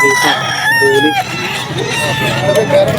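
A rooster crows repeatedly at a cockfighting market, its calls loud and near, mixed with clucking fowl while people talk in the background.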